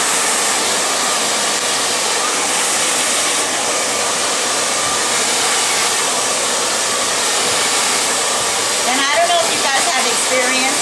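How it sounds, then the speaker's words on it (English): A hair dryer blows hair dry, a loud, steady rushing roar that runs unbroken from start to finish, with only slight shifts in airflow near the end. "So I will blow dry this way, and then I'll blow dry this way."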